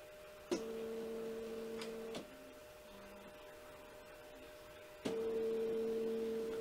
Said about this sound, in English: So let's home the printer so that you can see.